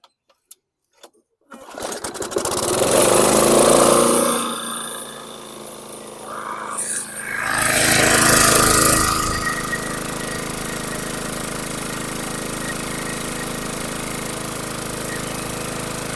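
A small rusty junk lawn mower engine clicks a few times, then fires up and runs with a loud rattling idle that revs up twice before settling into a steady, close running drone.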